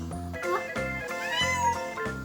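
Cats meow loudly and repeatedly close by, a series of drawn-out, plaintive cries overlapping one another with little pause while waiting to be fed.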